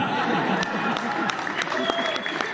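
Audience applause at a Hindi comedy and satirical poetry recital: loud, dense, sustained clapping from a crowd that fills the whole stretch, with some voices mixed in.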